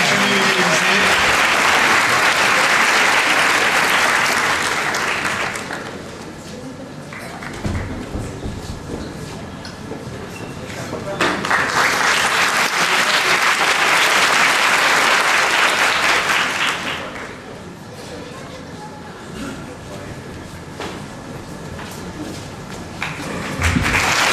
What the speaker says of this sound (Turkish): Evet alkışlayalım lütfen